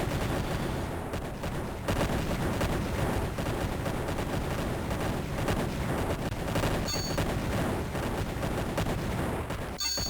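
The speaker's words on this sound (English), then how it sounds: "We're going to try and move the tanks in a little bit closer before we attack the fortress." Tanks attacking a fortress in the Imperium Galactica strategy game, a dense continuous stream of gunfire and artillery blasts with rapid repeated bursts, loud and unbroken, with no voices.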